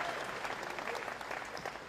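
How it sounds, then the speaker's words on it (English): A conference audience at KICC in Nairobi claps as a panelist walks up to the stage, a brief burst of dense steady applause heard from within the hall without anyone speaking. "Give him a round of applause."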